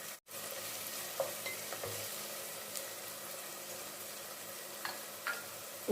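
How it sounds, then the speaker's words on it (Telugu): Green chillies frying in a chicken curry. The sizzle is steady with occasional stirring clinks and scrapes, a brief dropout near the start, and no speech. "ఇప్పుడు ఇందులో పచ్చిమిర్చి కూడా వేసేసుకుందామండి, ఇవి కూడా ఎగుతాయి కాబట్టి. ఇవి ఎర్రగా వేగనిద్దాం."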